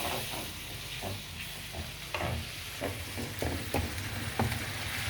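Red wine evaporating in a hot pan for a spaghetti sauce, a steady sizzle and hiss with repeated stirring scrapes and clicks at an irregular pace, no voices.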